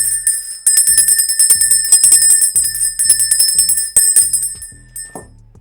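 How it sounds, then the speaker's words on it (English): A small handheld bell is rung repeatedly in close, bright bursts, each shaken ring bringing a cluster of metallic clangs with a lingering high shimmer, continuing for several seconds before trailing off. "I'm about to ring my bell, so if you are sensitive to noise, now is the time to turn that speaker down."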